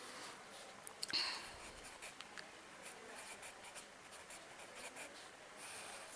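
A pen moves across paper while a leave application is written in Hindi, giving a faint, steady scratching with a few louder ticks near the start. No voice accompanies it.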